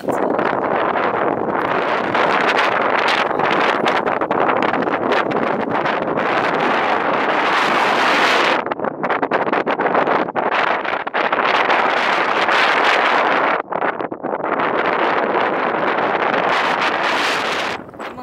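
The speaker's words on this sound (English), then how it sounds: "It's bloody windy outside." Strong wind on the Nullarbor Plain in Australia buffets the microphone in loud, continuous roaring gusts with brief lulls, no voices heard.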